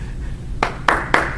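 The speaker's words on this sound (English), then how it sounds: "Don't clap for us." A few scattered claps ring out from a convention audience at a voice actors panel: four sharp, separate hand claps in quick succession over quiet room noise.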